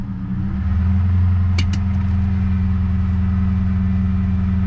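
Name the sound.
manual Holden SS Commodore engine running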